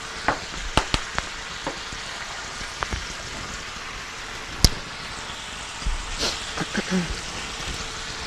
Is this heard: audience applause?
no